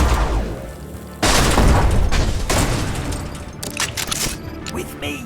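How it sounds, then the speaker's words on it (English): A Z800 robot enemy and two Z200s are blown apart in Mutant Year Zero. A sudden loud blast rolls into crackling debris and smaller bursts, with a voice talking over it. "another explosion takes out the Z800 and the 2 Z200s with it"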